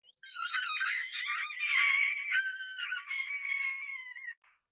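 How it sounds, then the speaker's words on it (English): A Pangosian child screams in an audiobook scene, a long, shrill, wavering shriek lasting over four seconds, loud and close, with no talk over it. "the Pangosian child screamed."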